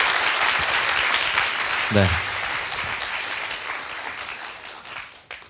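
Audience applause after a lecture at an economics concert event, a broad steady clatter of many hands that fills the room, gradually tapering off, with a brief spoken reply over it.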